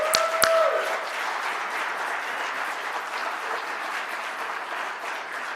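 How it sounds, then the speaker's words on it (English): Steady applause from an audience at an international conference on Cuba, greeting Cuba's permanent representative to the United Nations; a couple of sharp knocks open the clip, then even, sustained clapping continues without a break. "Please, round of applause."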